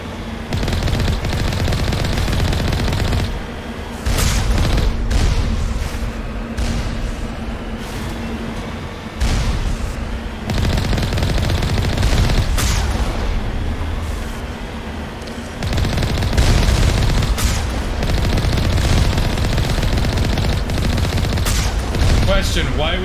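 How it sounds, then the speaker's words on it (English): Enemy turrets firing on a mercenary camp in the video game Mass Effect, long loud stretches of rapid automatic fire with vehicle rumble beneath, briefly pausing between bursts, with talk mixed in. "Oh no, they have turrets!"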